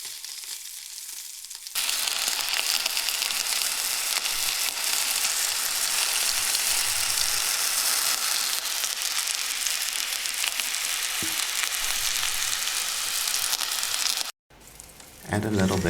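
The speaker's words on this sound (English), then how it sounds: "Let the asparagus cook for another 5 to 7 minutes with the lid off." Asparagus spears cooking in olive oil in an uncovered pan, a loud, dense, even sizzle that starts suddenly and holds steady, then briefly drops out near the end.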